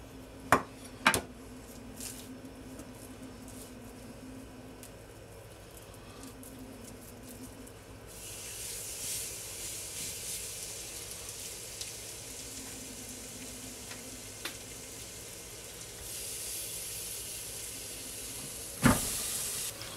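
Belgian waffle batter cooking in a hot waffle iron gives a steady steamy hiss and sizzle that swells louder partway through, with a few faint clicks and clatters nearby and no talking.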